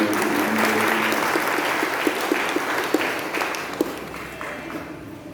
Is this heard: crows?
no